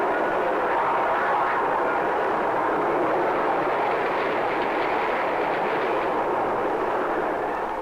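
A passing train heard at close range in an early-1960s educational film, a steady loud rushing and rumbling roar that holds for the whole stretch with no voices.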